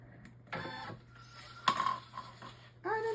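A Brother Innovis embroidery machine with a magnetic metal hoop traces the hoop outline, giving short mechanical whirs and stepping motor buzzes in separate bursts over a low hum, quiet and close.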